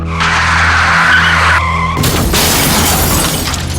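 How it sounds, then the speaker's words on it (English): A staged car crash from an impaired-driving dramatization: tires screech and skid for about two seconds, then a sudden loud impact with shattering glass and crunching metal. "Kelly, what's that car doing? Watch out, you're wrong lane!"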